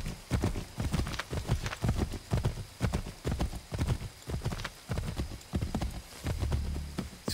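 Steady rhythmic clip-clop of horse hooves trotting at a regular pace in Assassin's Creed 3, close and fairly loud, with almost no other sound.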